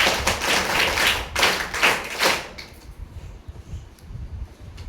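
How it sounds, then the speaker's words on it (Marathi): An audience claps for a contestant on a Marathi proverb-quiz stage show, a few seconds of loud, uneven clapping that stops abruptly, leaving faint room noise and scattered soft thumps. "टाळ्या वाजवा"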